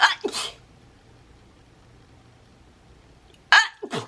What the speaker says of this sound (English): because I have to sneeze.